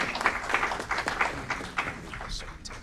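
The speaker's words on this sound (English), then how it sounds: "Let's give them a round of applause." Light, scattered clapping from the audience at an Aurora city council meeting honoring Deaf Awareness Month, individual claps audible and tapering off toward the end.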